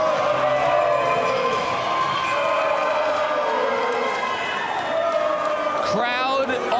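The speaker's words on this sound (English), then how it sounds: "Crowd on their feet." A crowd at an ice hockey final in the NHSL cheers and shouts as the clock winds down, a loud, sustained roar under an excited commentator, with a sharp whistle-like burst near the end.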